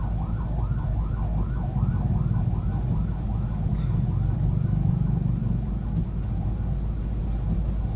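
An ambulance siren wails in rising and falling sweeps amid heavy traffic after an accident, heard over a constant low rumble of engines, moderately near and steady throughout.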